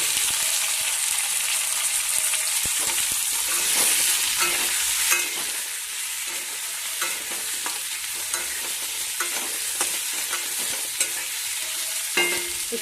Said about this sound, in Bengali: আলু আর কুমড়োটা একটু ভেজে নেবো প্রথমে